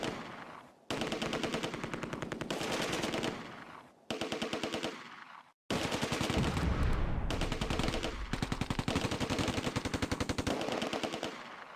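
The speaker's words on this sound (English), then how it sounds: "The rifle teams target the Panzer." Rifle and machine gun fire aimed at a Panzer in the WWII strategy game Close Combat: A Bridge Too Far, at Oosterbeek, with dense rapid bursts of loud gunfire broken by brief gaps.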